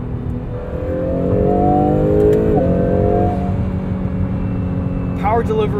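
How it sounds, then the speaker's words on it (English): A 2022 Acura NSX Type S twin-turbo V6 accelerating from inside the cabin, a steady rising engine drone swelling then easing off, with a brief higher whine near the end. "Even this V6 sounds pretty good."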